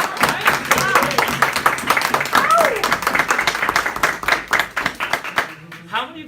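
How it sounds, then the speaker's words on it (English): Scattered hand clapping from a small Toastmasters club audience, steady and moderately loud, with voices audible alongside and a short spoken phrase at the end. "Can we have another round of applause for our first time Toastmaster?"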